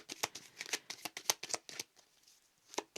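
Tarot cards being shuffled by hand, a quick series of crisp riffling bursts close up, then a short pause and one last flick.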